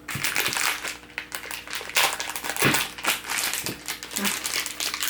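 A plastic bag crinkles and rustles as it is cut open and pulled apart in a home kitchen, bursts of close, loud crackling under occasional talk.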